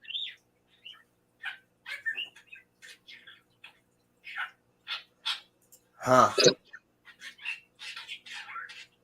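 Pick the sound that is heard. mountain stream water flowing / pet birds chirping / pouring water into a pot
pet birds chirping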